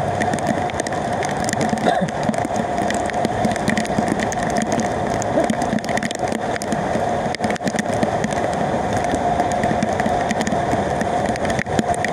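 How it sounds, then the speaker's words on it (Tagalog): Heavy rain pours down steadily on a flooding street, a dense unbroken hiss that stays loud and even throughout with no voices. "Biglang lumakas pang ulan, baha na naman ang kalsada."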